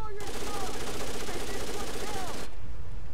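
Rapid bursts of automatic gunfire from the video game Tom Clancy's Rainbow Six Vegas 2 sound loud and continuous for a couple of seconds, then stop abruptly.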